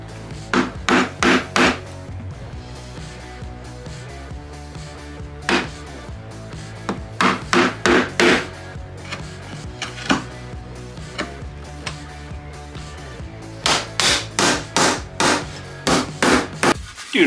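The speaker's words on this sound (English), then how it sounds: "I'm just going to cut that, we'll chop that out with a carving chisel." A carving chisel chopping a rebate in wood, heard as bursts of sharp, close mallet-like knocks in quick rhythmic runs with short pauses between groups, no talk over it.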